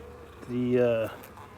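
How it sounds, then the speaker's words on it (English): A single worker honeybee's buzz swells up close for about half a second at a hive, a steady droning hum, then fades away against a quiet background. "now these are all female worker bees"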